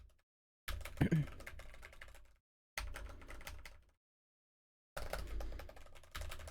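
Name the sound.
typing on a computer keyboard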